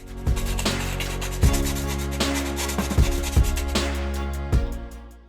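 Metal edge of an opened tin can being smoothed by hand for a DIY survival candle, a steady rasping rub with several sharper scraping strokes, close and fairly loud, no talking.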